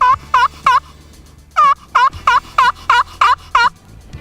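Friction turkey call worked with a striker to imitate a hen's common yelp, a loud, close run of sharp rhythmic yelps, three, a short pause, then seven more, with no talk.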